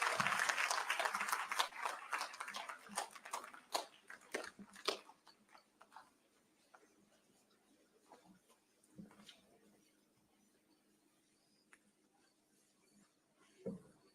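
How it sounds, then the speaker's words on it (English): Audience at a Tangaza University graduation ceremony in Nairobi claps to welcome the President, fairly faint applause that thins out after about five seconds into scattered claps and quiet room noise. "Let us all rise and welcome His Excellency with a clap"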